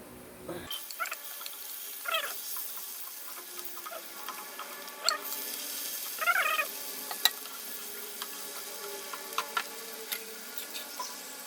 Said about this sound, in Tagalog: mag-gisa naman tayo ng ating gagawing tomato soup